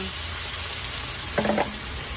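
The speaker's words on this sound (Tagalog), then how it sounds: "Lalagyan na po natin yung manok natin." Pineapple-juice-marinated chicken pieces go into a hot frying pan, giving a brief burst of sizzling and frying about two-thirds of the way in over steady background noise.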